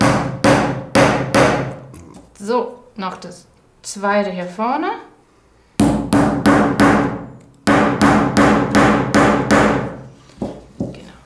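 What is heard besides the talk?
hammering wheels onto a wooden model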